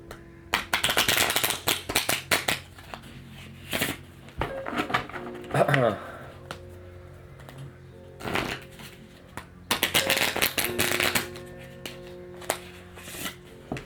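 Playing cards are riffle shuffled by a learner practising the technique, giving repeated bursts of rapid fluttering card slaps and taps close up, with several rounds separated by brief pauses and soft handling noises.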